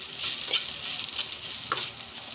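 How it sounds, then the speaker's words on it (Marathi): Chopped cabbage fries in a pan for quick homemade noodles, a close sizzle broken by a few brisk scraping strokes as it is stirred, all within a couple of seconds and without speech. "तर बघा, मी याच्यामध्ये पत्तागोबी घातले थोडी"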